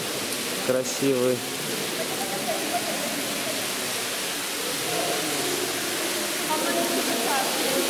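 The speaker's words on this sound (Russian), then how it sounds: "Такой фонтан." Water fountain splashing steadily as a broad, even rush close by, with brief voices talking over it near the start and later.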